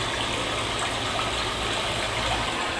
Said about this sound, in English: This is the Kentucky waterfall enclosure.